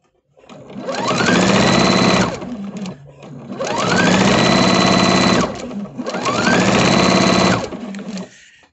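Three close, loud bursts of a sewing machine stitching Christmas quilt fabric pieces together, each run lasting about two seconds with short pauses between.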